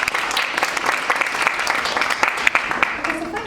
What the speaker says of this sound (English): I think we'll just give all our speakers one last round of applause